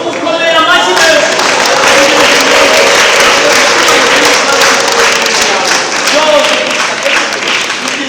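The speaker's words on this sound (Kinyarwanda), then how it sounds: "Tumukomeye amashyi menshi." A church congregation breaks into sustained applause, a dense wash of many clapping hands that stays loud and steady throughout, with voices mixed into it.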